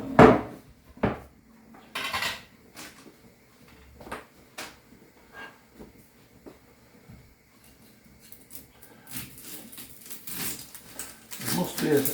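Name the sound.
slicing onion on a board in the kitchen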